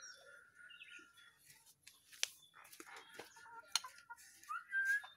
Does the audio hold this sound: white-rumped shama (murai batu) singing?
yes